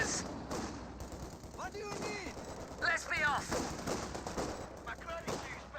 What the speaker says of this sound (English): infantry firing at us